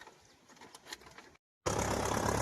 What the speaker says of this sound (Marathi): मस्तपैकी ट्रॅक्टर चालू करून दिलेला आहे